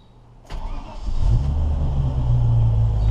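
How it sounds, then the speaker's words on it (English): A Land Rover Defender with a new exhaust cranks and fires, then settles into a deep, steady rumbling idle that stays close and loud. "First start with the new exhaust."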